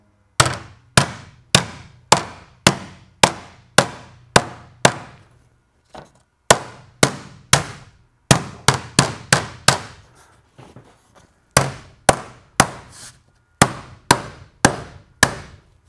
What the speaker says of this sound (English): cover the nails with my hammer, and we're going to set it in there just like that.